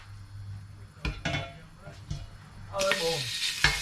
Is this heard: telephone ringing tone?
no